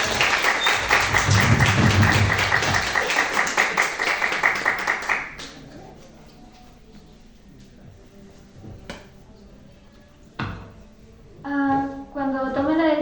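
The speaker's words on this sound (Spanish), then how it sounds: "Fuertes aplausos, por favor." Applause from an audience at a literature conference in Arequipa, loud and full at first, then dying away after about five seconds into sparse scattered claps and room noise, with a voice briefly heard near the end.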